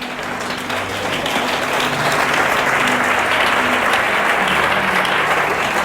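A church congregation breaks into sustained applause during a service, a dense wash of many hands clapping that holds steady and fills the space for about six seconds.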